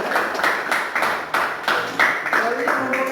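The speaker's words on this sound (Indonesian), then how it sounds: "berikan aplaus untuk kelompok kedua" An audience claps for the second group in an Indonesian classroom math activity, a steady patter of hands filling the room for a few seconds.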